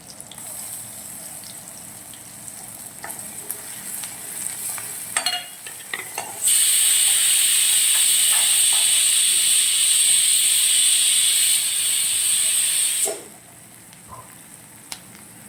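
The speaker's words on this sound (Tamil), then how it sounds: "இஞ்சி பூண்டு பேஸ்ட் சேர்த்துக்கோங்க" Ginger garlic paste hits a hot pan for a mutton liver pepper curry, bursting into a loud, steady sizzle that holds for about seven seconds before cutting off to quiet kitchen noise.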